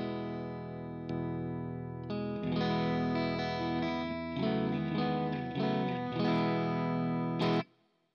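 Electric guitar played through a Soul Food overdrive pedal with light ambient reverb, giving warm, mildly crunchy strummed chords and single notes that ring on, then cut off sharply near the end.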